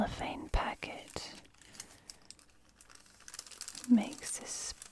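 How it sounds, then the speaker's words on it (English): A thin, very crinkly cellophane packet from a stationery parcel crackles and rustles up close in bursts, under soft whispering. "It's very crinkly, crackly cellophane, very thin."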